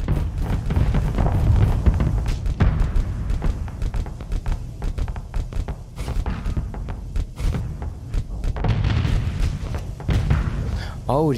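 Rapid missile racks fire in a space combat game, a steady stream of thumping launches and booms under continuous talk.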